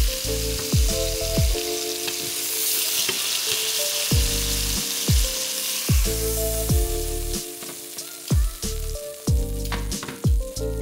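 A 1.244 kg beef fillet sears in a hot pan, a loud continuous sizzle broken by repeated sharp knocks and scrapes as it is turned to brown each side.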